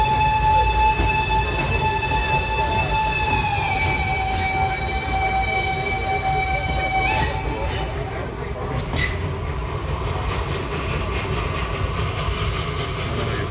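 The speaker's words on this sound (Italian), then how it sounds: "Inizia la nostra piccola avventura su un treno a vapore." A steam train in Maramureș, Romania rumbles along steadily with a sustained high whistle-like tone that drops in pitch and then cuts off, amid heavy mechanical noise nearby.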